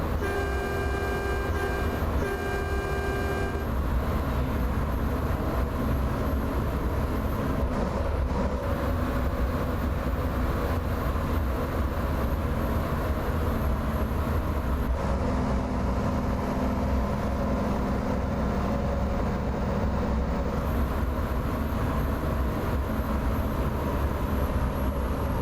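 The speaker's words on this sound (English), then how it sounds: "I love the horn on the Anthem, and it sounds like a train horn even though it isn't." A Mack Anthem truck's horn in American Truck Simulator, a deep train-like blast sounding briefly at the start, followed by a long steady engine drone and road rumble from inside the cab.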